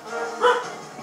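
A pet dog barks once nearby, a single sharp yap in the middle of a short stretch of soft room noise.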